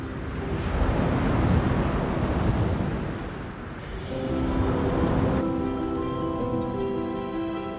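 Sea waves roll onto a deserted Vengurla beach on the Konkan coast, a steady broadband wash with wind noise buffeting the microphone and no voices.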